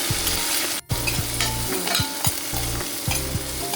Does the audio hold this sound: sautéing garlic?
yes